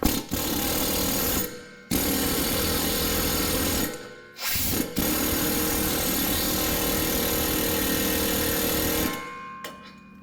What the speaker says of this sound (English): So we're going to take our air hammer and we're going to shoot it off, see if it comes off.